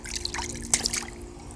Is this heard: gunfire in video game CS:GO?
no